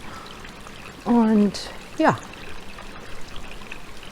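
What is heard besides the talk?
water trickling in a gorge in Crete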